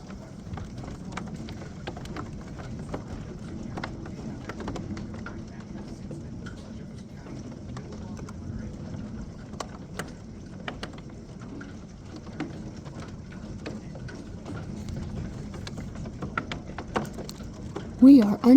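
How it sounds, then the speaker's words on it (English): Hail comes down hard during a storm under a tornado watch, a dense continuous patter with scattered sharper ticks of ice hitting surfaces, steady and close throughout, with no talking. "hail is coming down like crazy"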